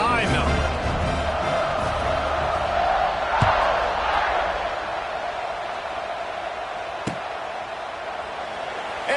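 Broad crowd roar fills a football stadium before kickoff, steady and distant with a couple of sharp thumps, while a commentator talks over it.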